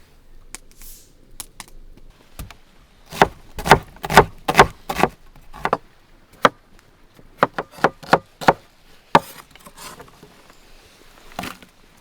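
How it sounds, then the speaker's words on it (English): Onion being chopped with a knife on a wooden board during outdoor cooking for a clay-pot meat dish, a series of sharp, close knocks in irregular bursts separated by quiet pauses. "then move on to chopping the onion"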